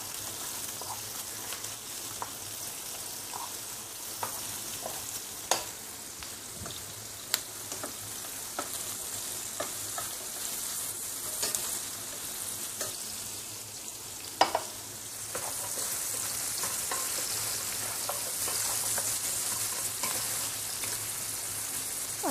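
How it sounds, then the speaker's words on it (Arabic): Onions for chicken fry with a steady, soft sizzle in a pan, broken by scattered clinks and scrapes of stirring, close by and moderately quiet, with no voices. "انا برضو بقلب البصل بتاع الفراخ"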